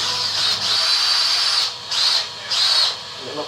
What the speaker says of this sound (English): And countersink them below the surface